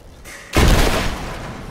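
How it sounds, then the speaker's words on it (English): An explosive arrow detonates in Rise of the Tomb Raider, a sudden loud, close blast that erupts after a quiet moment and rumbles on with a long, noisy decay. "big-ass explosion for an arrow"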